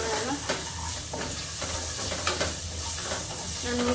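Chopped onion with a little salt frying in hot oil in a pan, a continuous close sizzle and hiss with stirring scrapes and light clinks throughout.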